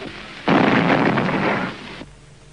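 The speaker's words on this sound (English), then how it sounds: "The explosion was from a bomb thrown by a Hindu refugee to kill Gandhi." A single heavy bomb blast thrown at a prayer gathering, a loud sustained roar lasting about a second and a half before cutting off abruptly, heard alone without voices.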